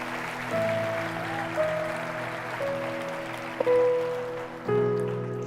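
A church congregation applauds during a service, a soft rain-like patter of clapping beneath sustained keyboard chords that shift pitch every second or so.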